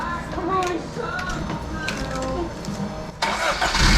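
A 1983 Toyota Corolla wagon engine cranks and fires up, close and loud, the starter churning before the motor catches and roars to life, with people talking over it.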